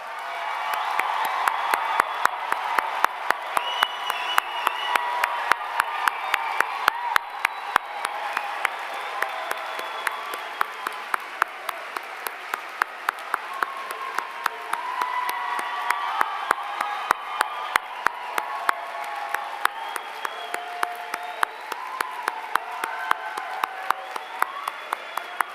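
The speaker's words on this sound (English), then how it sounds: "Let's have all the graduates stand so we can offer you a big round of applause." Sustained audience applause and cheering as graduates stand at a university fine arts spring convocation, dense clapping with occasional whoops filling a large hall, steady and loud throughout.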